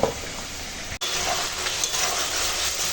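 Fried pomfret goes into a boiling Bengali fish curry gravy. A steady, close bubbling sizzle breaks off for an instant, then carries on evenly throughout.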